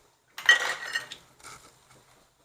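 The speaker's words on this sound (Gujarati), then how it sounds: "તલને શેકી નાખશું." Sesame seeds roasting in a pan with cumin and asafoetida for a Kathiawadi-style whole onion curry, giving a short burst of scraping, clinking stirring against the metal pan that fades over two seconds, close and moderately loud, with no talk.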